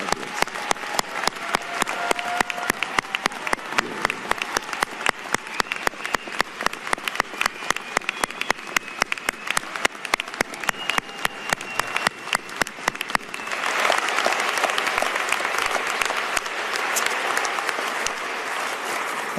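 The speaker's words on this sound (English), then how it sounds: "join me in one more round of applause for our spectacular graduates" A large commencement crowd applauds medical school graduates, sustained dense clapping that runs for nearly twenty seconds and swells fuller and louder in the second half, with a faint murmur of the audience beneath.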